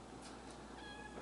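A cat gives a brief, faint meow in a quiet indoor setting, a single thin high call rising out of low background hiss.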